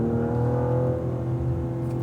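A 2016 Cadillac ATS-V pulls hard out of a curve on a racetrack, a steady droning engine note heard from inside the cabin, moderately loud and sustained throughout, with no voices.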